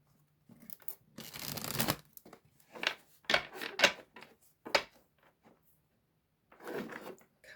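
A tarot card deck is cut and shuffled, a papery slide followed by several quick card flicks and taps, close and fairly quiet.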